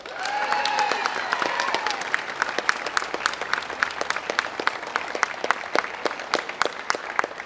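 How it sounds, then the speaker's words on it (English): Sustained crowd applause with sharp individual claps for the Avoca team after a junior football county final against Knockananna, loud and steady, thinning to scattered claps toward the end. "So I just say a round of applause for Avoca"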